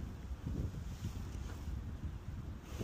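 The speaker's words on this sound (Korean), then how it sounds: "바람도 장난 아니에요. 크로스 바람이, 슬라이스 바람이니까" Strong crosswind gusts over the 8th hole of the west course at Anseong Benest golf club, a steady low roar buffeting the microphone for the whole stretch with no talking.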